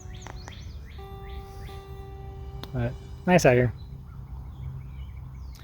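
Birds calling outdoors on a rural off-grid homestead: a few short chirps early on, then a louder burst of gobbling fowl calls close by, with someone speaking briefly over steady background road noise.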